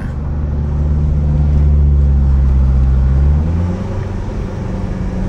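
A car climbs a steep mountain road at 1,600–1,700 m in northern Thailand, its engine holding a loud, steady drone from inside the cabin that eases slightly partway through, with no talking.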